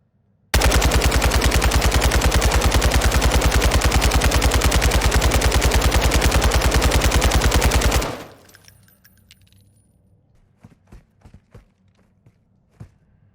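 An RPK machine gun fitted with attachments in a video game fires one long, loud, rapid burst for about seven seconds, then stops, leaving faint footsteps and a few scattered clicks and knocks.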